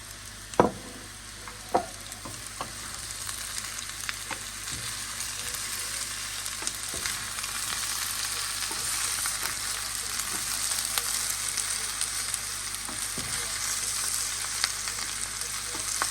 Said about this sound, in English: she's going to mix it with the potatoes